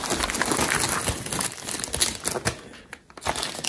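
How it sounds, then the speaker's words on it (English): Packaging crinkling and crumpling as a boxed Power Macintosh G4 is unwrapped, a steady close rustle of plastic and paper with small cracks and pops throughout. "Let's unwrap this."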